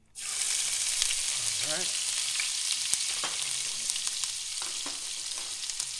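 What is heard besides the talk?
ginger frying and sizzling in a pan for arroz caldo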